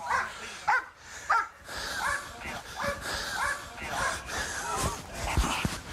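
A dog barks in a few sharp, loud bursts near the start, then whimpers and yips under a noisy scene where people are talking.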